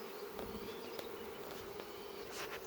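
A honeybee colony hums with a steady, dense buzzing during a hive inspection, close and continuous, with a few individual bees passing louder.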